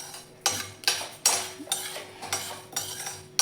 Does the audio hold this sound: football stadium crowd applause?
no